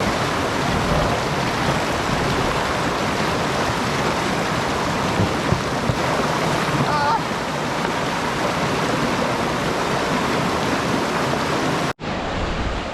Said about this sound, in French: encore des cascades